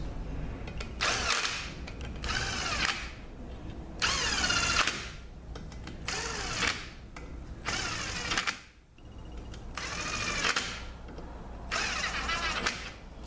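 A power tool runs down bolts on a 722.6 transmission pump in repeated bursts of loud whirring about a second long each, separated by short pauses and heard up close.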